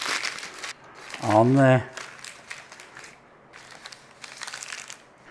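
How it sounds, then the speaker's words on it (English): Parchment paper scrunched up by hand in a kitchen while preparing a tomato tart, giving a short loud crinkling burst between quieter moments of talk. "Have yourself some parchment, give it a good screwing up."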